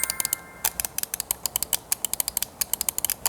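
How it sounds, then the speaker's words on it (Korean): Rapid, sharp mouse clicks repeat in a steady, close-up stream, crisp and dry with no talking. "보통의 마우스라면은 이런 클릭 사운드가 들리잖아요?"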